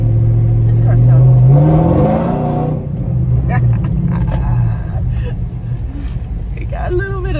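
A rear-ended Chevrolet Camaro SS engine runs and revs up with a rising whine, then settles to a rougher idle rumble inside the car while someone talks over it.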